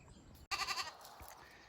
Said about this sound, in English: We've got the sheep and the goats in here.